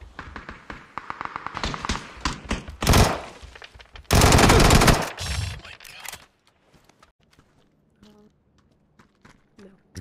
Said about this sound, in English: Yep, here comes a shotgun to end it.